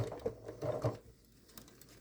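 A sewing machine stitching fabric for a fish-shaped cat Christmas stocking, quiet rapid mechanical clatter in short bursts that fades to near silence.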